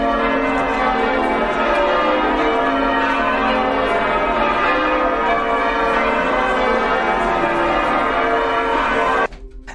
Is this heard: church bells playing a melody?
yes